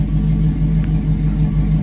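A 1979 Chevrolet Monte Carlo engine idles steadily while warming up, giving a close, loud, even low rumble with no revving.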